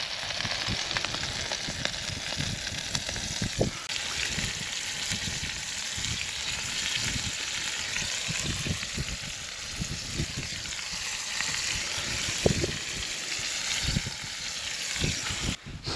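Steak sizzling in a pan over a camp stove at an outdoor hillfort camp, a steady, close frying hiss with scattered pops and crackles running unbroken throughout.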